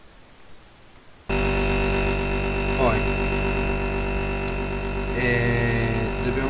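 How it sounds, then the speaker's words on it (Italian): A refrigerator in the Minecraft Voltz mod switches on abruptly after near silence and settles into a steady, loud electrical hum with a faint whine on top, lasting several seconds without voices. "Accendiamo il frigorifero."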